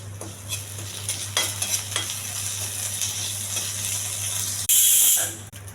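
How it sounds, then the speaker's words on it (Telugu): Curry leaves and cumin seeds frying in an oiled pan: a close, continuous sizzle with repeated stirring clinks from a spoon, swelling into a sudden loud hissing burst near the end. No one speaks. "కరివేపాకు, కొంచెం త్వరగా వేగాలి ఇవన్నీ"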